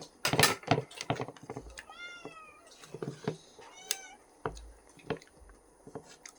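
A hungry cat meows repeatedly at dinner time, several drawn-out, rising calls close by among scattered clicks and clatter, with a little quiet talk.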